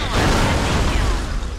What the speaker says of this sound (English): he died in an accidental explosion